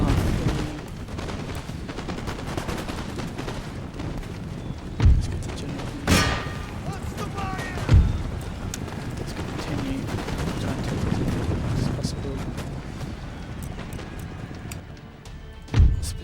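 In the strategy game Empire: Total War, a steady distant battle rumble of massed musket volleys continues, broken by several sharper, louder booms of artillery fire.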